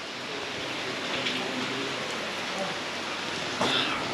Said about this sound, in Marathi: कारण पाऊस चालूच आहे कंटिन्यू बघा.